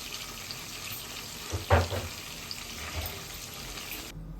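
Prawn pakoda fries in hot oil on a low flame, a steady soft sizzle with a brief louder bubbling burst midway, close and fairly quiet, ending abruptly.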